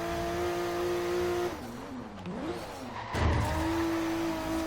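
A twin-turbo Subaru Brat in the racing game Forza Horizon 3, its engine holding a steady droning note that dips and wavers, then swells with a burst of tire noise before settling back to the drone.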